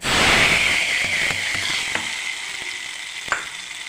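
Tempering for coconut chutney crackling in hot oil, a loud bright hiss that starts strong and fades, punctuated by a few sharp pops and spatters.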